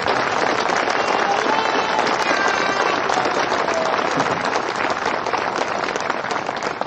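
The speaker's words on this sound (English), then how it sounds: "We owe them a round of applause." A crowd at a D-Day parade and tank rededication ceremony breaks into loud, dense applause that holds steady throughout, many hands clapping close and continuously.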